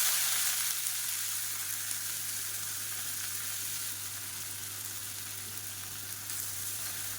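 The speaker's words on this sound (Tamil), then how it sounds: "இது கூடவே மெஷரிங் கப்பில் 1 கப் அளவுக்கு பொடியாக நறுக்குன வெங்காயம் சேர்த்துக்கலாம்." Chopped onions and fennel seeds frying in hot oil for a chicken and egg podi recipe, a steady close sizzle with a constant low hum underneath and occasional stirring, no voices.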